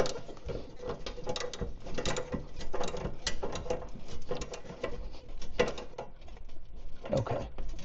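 A part is screwed into a Honda HS928 hydrostatic snowblower, giving close, busy metallic clicking and ratcheting with small taps and rattles, steady throughout.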